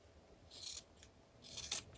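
Scissors trim fabric for a handmade fabric book: two short, crisp snipping cuts with a soft rasp, about a second apart, close by and quiet, with no talking.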